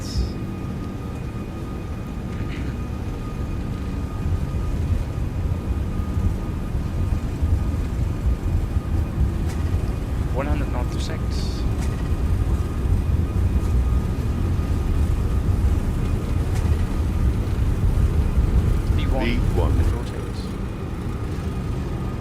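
Lufthansa Airbus A340-600 engines at takeoff power on the runway at Kansai Airport, a steady, loud low roar that holds for about twenty seconds with brief faint tonal chirps, then eases slightly near the end.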